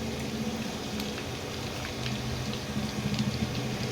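Spice-coated prawns frying in hot oil, a continuous crackling sizzle with scattered pops, steady and close throughout.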